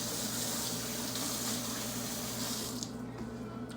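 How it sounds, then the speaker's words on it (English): Water runs from a kitchen tap into a roasting pan, a steady close rushing stream that thins slightly near the end; no talk. "I'm just gonna get a little bit of water, put it on the bottom, cover the bottom of the pan with water"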